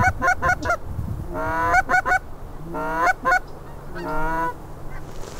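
Canada geese honk in repeated bursts as they fly overhead, loud and close, in a goose hunting setting with a low rumble beneath.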